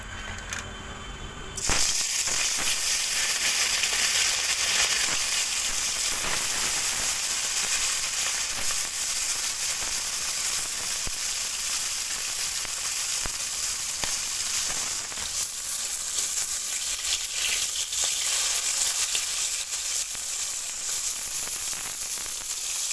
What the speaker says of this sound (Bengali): এবার প্রথমে আমি মাছটা ভেজে নেব